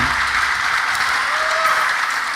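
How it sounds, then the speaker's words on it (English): Audience at a Sunday leather show at CLAW 14 breaks into a brief, even burst of applause, a dense steady wash of clapping lasting a couple of seconds. "huge round of applause"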